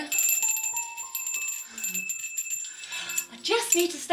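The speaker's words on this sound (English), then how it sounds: "Believe it or not, another bell here." A small bell in a cozy home decorated for Yule rings a few bright, sustained tones that fade, followed by more jingling near the end, close and fairly loud.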